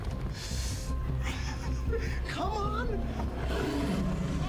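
A lion roars in a television drama scene, deep rumbling growls under overlapping dialogue and reactions.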